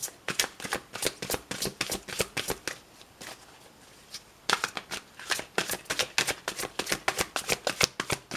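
Oracle cards are shuffled and riffled in quick, crisp runs of flicking snaps, close up. A short pause comes midway before the rapid shuffling resumes, with no voices.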